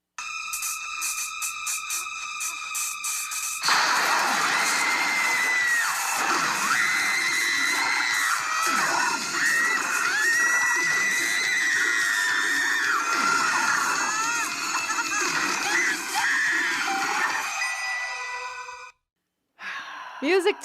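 A long, sustained high-pitched female horror scream by Patricia Arquette from Nightmare on Elm Street, loud and wavering over a dense, shrill backdrop, then cutting off abruptly near the end.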